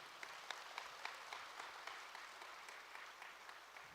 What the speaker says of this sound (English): One more big round of applause for Sutton King.